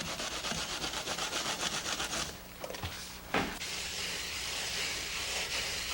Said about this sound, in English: Now I'm using the wood float to pare away the excess.